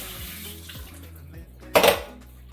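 A vegetable gets a quick rinse under a kitchen tap: one short splash of running water over a low background hum, nearby and brief, with no talking.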